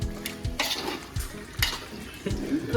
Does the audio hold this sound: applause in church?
no